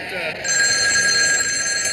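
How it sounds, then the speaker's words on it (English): A telephone bell rings with a steady, bright electronic tone that starts just under half a second in and carries on loud and unbroken to the end, with no talk over it. "Is that our phone?"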